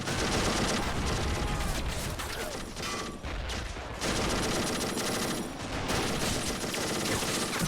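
Dense, continuous machine gun fire and crackling volleys from a war strategy video game battle between Red Army troops and defenders on a mountain, loud and sustained throughout with only brief dips.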